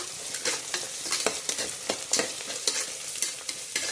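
Onions fry in a pan with salt while a spoon scrapes and stirs them in quick, irregular strokes over a close, steady sizzle.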